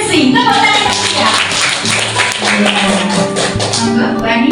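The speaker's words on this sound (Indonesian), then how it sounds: "Tepuk tangan ya." An audience at a school event at SMP Negeri 16 Yogyakarta claps in a dense, lively burst, with a voice speaking over the applause.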